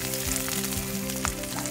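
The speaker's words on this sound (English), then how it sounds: "Add my coconut and just fry it till it changes a little bit of its color." Cubed coconut frying in oil, a close, steady sizzle with soft crackles and pops running over a low steady hum.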